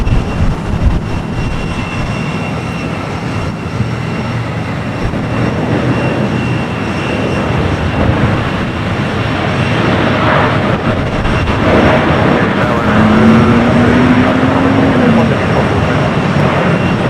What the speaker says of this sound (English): Flight coming in from Hong Kong.